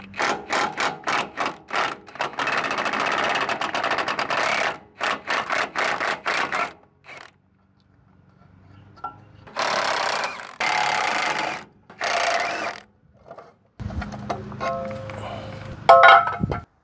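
An impact wrench works on a semi truck's purge valve assembly, sounding in bursts of rapid rattling hammering, loud and close, broken by pauses and quieter clinks of tools.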